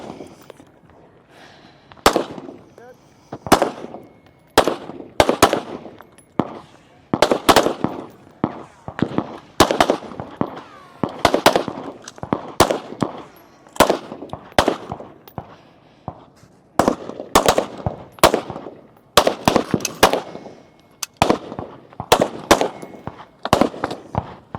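Rifle shots crack one after another at a shooting range firing line during a women's elite regional competition stage, sharp, loud reports in an irregular series with brief pauses between them.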